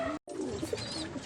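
Pigeons coo in a loft during feeding, soft throaty coos and murmurs from several birds nearby, steady and overlapping with a brief dropout near the start.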